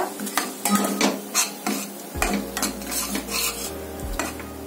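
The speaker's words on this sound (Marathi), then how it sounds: "आता हे चांगलं परतून घ्यायचं आपल्याला व्यवस्थित, तेल सुटेपर्यंत।" Onion-garlic masala for misal is stirred and fried in a pan, with a spoon scraping and clinking in rhythmic strokes over a soft sizzle, close by and without talking.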